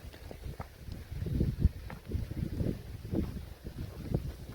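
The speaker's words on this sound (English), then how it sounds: "It's kind of windy right now." Wind gusts buffet the microphone at a lagoon campsite in Mosquito Lagoon, Florida, in low rumbling bursts, rising and falling irregularly throughout, with no voices.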